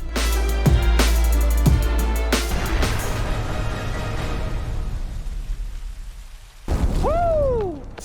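Explosion in the martial arts film Ong Bak 2, heavy booms and bursts with falling debris and rumble, then a sharp whooshing impact near the end, all under a cinematic soundtrack.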